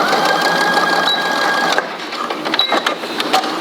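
A sewing machine runs a short straight stitch along the folded edge of sweater fabric, a close, loud mechanical whir lasting a few seconds with faint clicks near the end.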